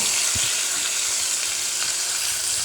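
Steady, loud sizzling of pork frying in a hot pan after garlic, onion and chili were sautéed, for Filipino pork adobo, with faint stirring clinks and scrapes underneath.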